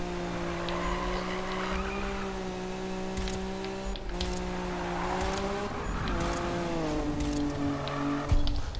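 A 1971 Nissan Fairlady 240 ZG in the racing game Need for Speed (2015) revs hard and steadily, its engine note climbing and dropping with gear shifts, loud and continuous with faint tire noise toward the end.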